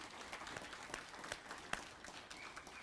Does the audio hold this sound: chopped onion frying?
no